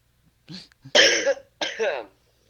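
A few harsh coughs close to the microphone, one weak then two strong bursts, with near silence around them.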